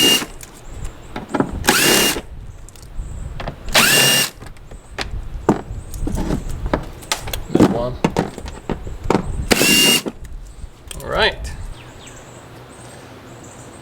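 Power driver spinning out T20 Torx screws while removing a rear A/C evaporator from an Acadia, Enclave or Traverse, heard as several loud, brief whirring bursts between quieter clicks and handling noises, up close.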